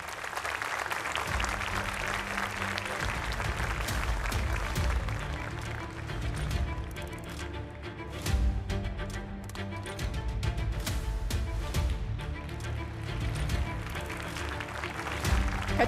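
Audience applause at a TRT award ceremony for a young communicators' competition, a fairly steady crowd clapping throughout with some soft voices mixed in, moderately loud in a hall.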